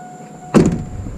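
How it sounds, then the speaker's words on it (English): A truck door being opened up close: a sudden latch clunk and thud, followed by a short rattle that tails off. "I'm gonna open the doors for you."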